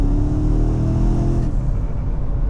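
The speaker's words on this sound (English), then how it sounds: "What an engine." A BMW M5 Touring estate's big engine revs hard through a rising, harmonic-rich drone under acceleration, then drops off sharply into a lower rumbling cruise, loud and close with no voices.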